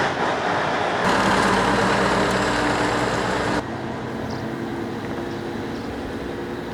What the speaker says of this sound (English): and then I'm gonna pull the tractor inside